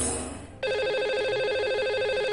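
A telephone rings on a radio phone-in show as a call goes out to the lucky caller: a steady, loud electronic ringing tone that starts abruptly after a brief quieter lead-in and keeps going unbroken.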